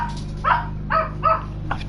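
A small pet dog yaps three quick, high barks in a close burst, then a softer fourth yip, over a low steady hum indoors.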